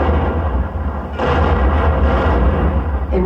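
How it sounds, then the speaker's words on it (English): Battleship 14-inch naval guns firing, a loud, sustained, booming roar that rumbles continuously through the whole stretch with a fresh swell partway in, no voices. "Her 14-inch guns could fire a shell 20 miles."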